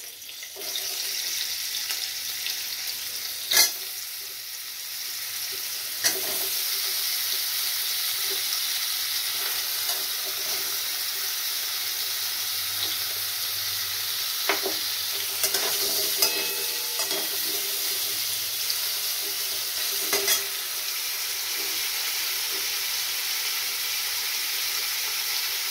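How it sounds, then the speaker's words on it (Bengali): Paneer cubes fry in a pan with a steady, even sizzle that runs close and continuous for the whole stretch, broken only by a few faint clinks. "আমি পনিরগুলো একটু ভেজে নিচ্ছি।"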